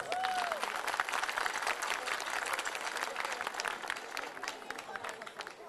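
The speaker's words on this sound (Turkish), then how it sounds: "Arapasan Orta Oyun ekibini alkışlıyoruz." An audience at a Yörük yaren night in Dalaman applauds the Arapasan Orta Oyun folk theatre team from Fethiye's Söğütlü village, steady dense clapping at moderate level with a brief whistle-like tone at the start.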